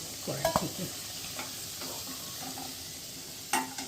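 Potatoes fry in oil in a wok while a spatula stirs them, giving a steady, fairly quiet sizzle broken by a few sharp scraping clicks near the start and end, with no talking.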